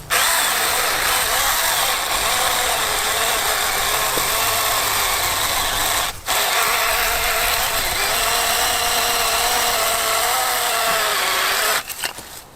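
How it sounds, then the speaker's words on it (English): Saker mini chainsaw cutting through a 4-inch tree, its motor whining loud and steady and close, with one brief dip near the middle and a sputter at the end, no voices. "it cut through that thing pretty well"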